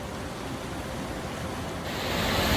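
A creek's steady rushing water flows nearby, a broad hiss that swells louder toward the end.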